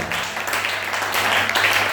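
A church congregation applauds in acclamation of the Lord at a New Year's service, a dense, continuous wash of clapping and crowd noise at steady volume.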